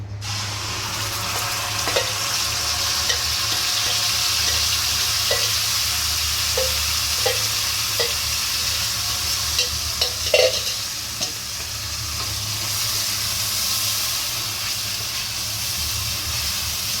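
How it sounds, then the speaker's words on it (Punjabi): Masala spices roast in a pan for stuffed baingan masala, giving a steady, hissing sizzle throughout with occasional soft scrapes and taps of a stirring spoon, close by and without talk. "ਆਪਾਂ ਮਸਾਲਾ ਭੁੰਨ ਲਈਏ ਪਹਿਲਾਂ"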